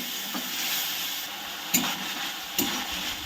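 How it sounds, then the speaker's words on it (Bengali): Spice paste with ground tomato fries in a pan for a Bengali rohu fish curry, a continuous sizzle broken by a few sharp scrapes and stirs of the spoon, close and with no talking. "এবার আমি এর মধ্যে টমেটো বাটাটা দিয়ে দিচ্ছি। এটাকে ভালো করে কষিয়ে নিতে হবে।"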